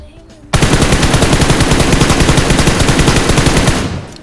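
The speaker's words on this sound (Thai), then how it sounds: "เราจะทำการนั่งยิงแล้วก็ยืนยิงไปพร้อมกัน" Rapid automatic gunfire in PUBG Mobile during crouch-and-stand shooting, a dense unbroken burst of close, loud shots lasting about three seconds before tapering off.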